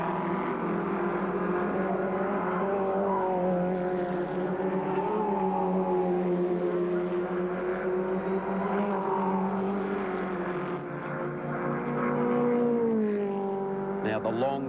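Formula Ford race cars at Bathurst in 1991, engines whining and shifting pitch as they pass and sweep away, heard continuously beneath a race commentator talking.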